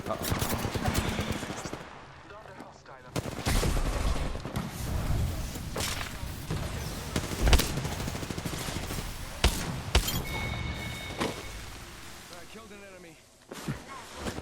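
Bursts of rapid gunfire and sharp shots from an Apex Legends battle, with thumps and explosions scattered throughout, loud and close, with some voices in the mix.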